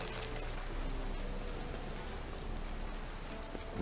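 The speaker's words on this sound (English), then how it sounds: "Looks like rain." Rain in The Witcher 3: Wild Hunt falls as a dense, steady hiss of drops with scattered louder patters, continuous and even from start to finish, with no voices.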